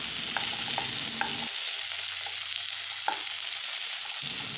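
Karamcha fruits frying in mustard oil, a loud, steady, close sizzle that runs unbroken throughout, with a few light stirring knocks in the pan.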